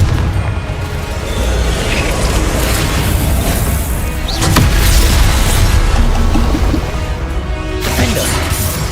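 Confringo fire spell blasts in Hogwarts Legacy: loud booming explosions with crashing bursts, a strong hit near 4.5 seconds and another around 7.5, over a continuous rumbling battle din.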